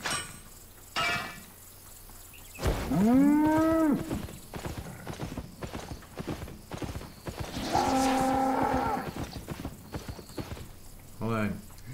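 A cow in the Albion Online video game moos twice, each low drawn-out call standing out over steady clip-clopping hooves and background game sounds, with someone talking between them.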